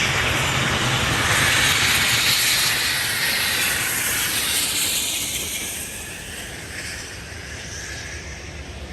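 The Union Pacific 4014 Big Boy steam locomotive approaches with a broad, loud hissing roar that rises and then slowly eases, steady and wind-swept, with no voices.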